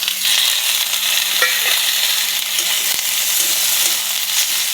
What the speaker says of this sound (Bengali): টমেটোটা দিয়ে কিছুক্ষণ নাড়াচাড়া করে ভেজে নেব